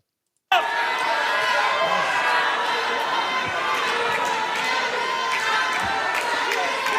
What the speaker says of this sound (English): you have the Palestinian protesters in the crowd, just heckling pretty much